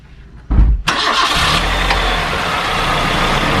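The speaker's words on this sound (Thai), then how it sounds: "เดี๋ยวจะฟังเสียงเครื่องนะครับ" A 2003 Nissan Sunny Neo 1.6 petrol automatic engine cranks briefly, catches with a loud burst, then settles into a steady, smooth idle nearby.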